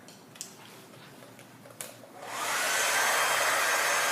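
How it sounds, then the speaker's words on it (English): A couple of soft clicks, then a hair dryer starts and blows steadily and loudly, close up, with no speech. "So I can take my blow dryer"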